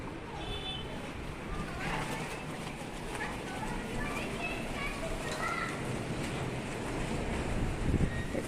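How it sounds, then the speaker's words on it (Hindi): Strong wind gusts roar steadily across a rooftop, buffeting the microphone with a dense, continuous rush that swells slightly near the end. "देखो कितनी हवा चल रही है"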